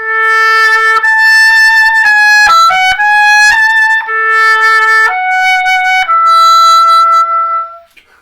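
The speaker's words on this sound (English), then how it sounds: "That's the sound of the oboe." Oboe played with its double reed, a bright, nasal solo melody of sustained and short notes with rich overtones, loud and close, alone with no voices.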